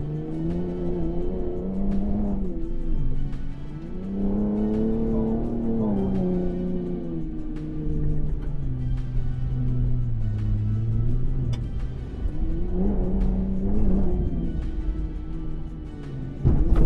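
A long-travel third-generation Ford Raptor pickup's engine roars and revs steadily, rising and falling in pitch as it drives hard off-road at high speed, loud and close throughout.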